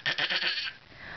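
A young child imitates a sheep, giving one short, wavering 'baa' bleat close to the microphone, with no other sounds around it.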